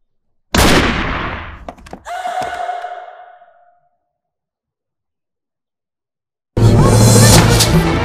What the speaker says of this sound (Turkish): Silah sesi bu evden mi geldi?